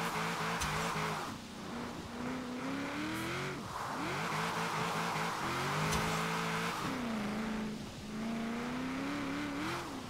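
In Forza Horizon 4, a car drifts at high speed, its engine revving in long rising and falling sweeps broken by gear changes, with tyre squeal layered over the steady, loud drive.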